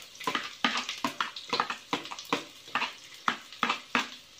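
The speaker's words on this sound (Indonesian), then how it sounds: "terus tumis dulu sampai harum, sampai kecoklatan" Garlic and shallots sautéing in a pan, giving repeated bursts of sizzling and stirring scrapes roughly every half second, close and fairly clear with no talk over it.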